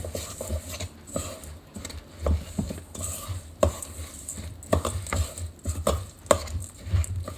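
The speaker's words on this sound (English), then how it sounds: "You get to mix it together." A spoon stirs a mixture containing applesauce in a bowl, giving steady close scraping and soft clinks against the bowl's sides, with a low kitchen hum underneath.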